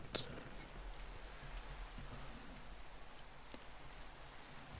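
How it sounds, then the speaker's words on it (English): Rain in the Minecraft video game, a steady soft patter of falling drops with a few sharper clicks, continuous and fairly faint. "It's raining."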